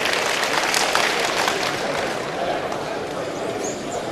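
Loud, steady applause from a gathered audience at an official installation ceremony in Benin, a continuous wash of clapping with murmuring voices underneath.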